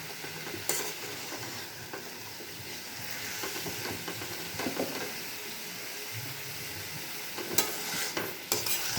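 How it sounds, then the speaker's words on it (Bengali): Fenugreek greens (methi) frying in oil in a pan, a steady moderate sizzle with repeated spatula stirring and scraping, a few sharper clicks near the end, nobody speaking. "একটু ভাজা ভাজা করে নিচ্ছি।"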